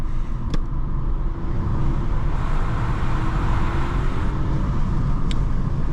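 Steady engine rumble from a 2020 Škoda Scala 1.0 TSI (115 hp, DSG7) in sport mode, mostly low and constant, with a faint rise in intensity and road-like noise; no clear high revs.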